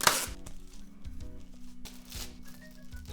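Melon pan dough being worked together with almond powder in a bowl: a run of soft, close scraping and thudding handling sounds, repeated irregularly, over faint background music.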